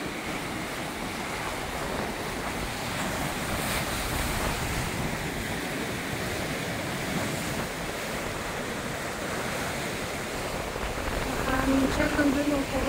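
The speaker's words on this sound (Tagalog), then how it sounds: "Medyo magalaw-gaw ngayon yung alon." Rough surf churns and roars continuously against a cliff and rocky shore on a Bermuda beach, with wind buffeting the microphone and a swell building louder near the end.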